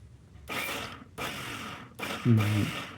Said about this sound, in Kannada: of and on off and on ಮಾಡ್ಕೊಂಡು ಹತ್ತಿತ್ತ ಓಡಿಸಿ ಇದನ್ನು ರುಬ್ಕೋಬೇಕು